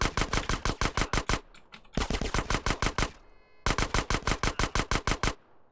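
Micro SMG fire in GTA San Andreas during a DYOM mission: three rapid bursts of evenly spaced, sharp shots, loud and close, separated by short pauses.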